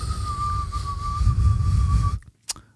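A single long, steady whistled tone holds for about two seconds over low background rumble, then stops, followed by a brief faint click.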